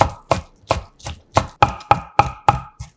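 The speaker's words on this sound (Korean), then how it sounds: "양파와 같은 크기로 잘라" A knife chops shiitake mushrooms on a cutting board into onion-sized pieces, about ten crisp, evenly spaced strikes close up with no voices.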